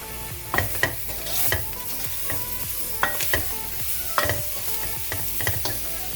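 Tomato and spices, coriander powder among them, fry in a pan for cabbage curry, a steady sizzle broken by a spoon's repeated scraping and clanking strokes, close and loud, with no talk.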